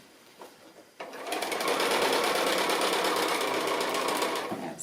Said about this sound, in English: So I'm nearly round this second line of stitching, which means we're nearly done.